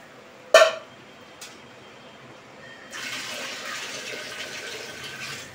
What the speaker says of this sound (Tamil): அடுத்து வந்து அளந்து வச்சுருக்கேன் தண்ணி, அதையும் ஊற்றிக்கலாம்.